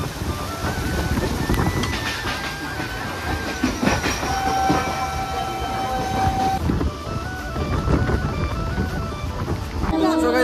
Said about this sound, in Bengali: ফাইনালি কিন্তু হাওড়া স্টেশন থেকে ট্রেন ছেড়ে দিচ্ছে